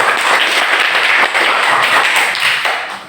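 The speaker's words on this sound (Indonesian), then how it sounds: "Oke, tepuk tangan untuk kedua kelompok tadi." A primary school class gives loud, dense applause for two student groups after a science demonstration, many hands clapping together close by before fading out.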